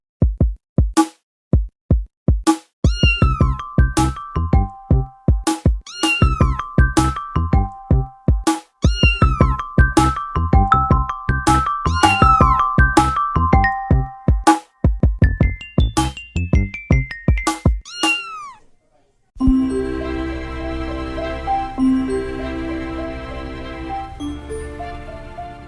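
A white mother cat with newborn kittens meows over and over in short, clear, rising cries, close and loud, with a few brief pauses, until a steady, muffled rumbling background takes over near the end.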